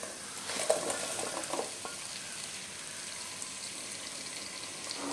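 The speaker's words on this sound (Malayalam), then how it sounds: "നമുക്ക് നന്നായിട്ടൊന്ന് ഇളക്കി യോജിപ്പിച്ച് കൊടുക്കാം." Chopped lemon and vinegar stirred together in a pan for lemon pickle, a faint steady hiss with a few soft spoon scrapes and clinks at the start, then quiet simmering.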